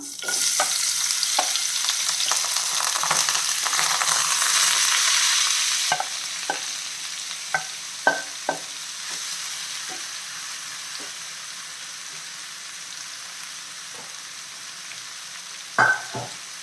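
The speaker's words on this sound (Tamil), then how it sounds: "நல்லா கிளறிப்போம்." A mushroom mix with cloves and other spices is stir-fried in a pan over high flame. A loud hiss of sizzling gives way to a fainter sizzle with sharp, spaced scrapes and clinks from the spatula.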